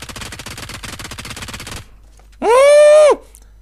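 Rapid automatic gunfire crackles in a battle royale shooter game, a dense burst of shots for nearly two seconds, followed by a brief loud rising-and-falling tone.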